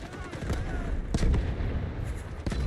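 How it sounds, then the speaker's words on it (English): A grenade blast in the shooter game Delta Force, a loud, booming burst with crackling gunfire-like noise around it, under brief speech. "That's a grenade."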